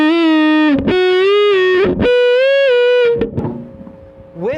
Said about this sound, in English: I add my 70s Big Muff Fuzz pedal.